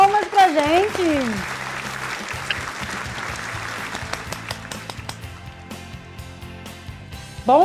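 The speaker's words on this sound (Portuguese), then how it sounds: "Palmas pra gente!" Studio audience applauding on a Brazilian TV cooking show, a steady wash of clapping under music, with a voice heard briefly at the start and end.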